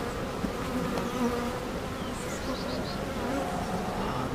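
Honeybees swarm and buzz around an opened hive, a dense continuous hum close by with individual bees whining past.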